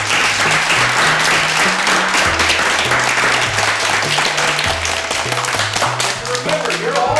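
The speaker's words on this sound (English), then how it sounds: "I want you guys to give yourself a round of applause." Loud, sustained applause from a gathered group at a summer art park event, dense clapping over a low, steady musical tone with voices mixed in.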